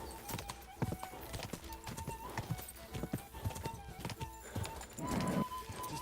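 Horse hooves clip-clopping in a steady rhythm in Kingdom Come Deliverance 2, fairly close, with occasional snorts and a brief louder rustle near the end; a voice speaks faintly underneath.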